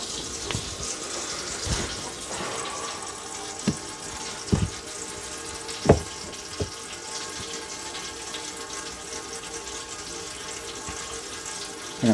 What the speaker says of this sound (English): I'm going to pull it back while keeping the water running.